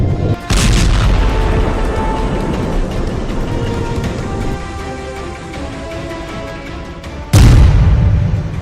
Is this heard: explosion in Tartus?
yes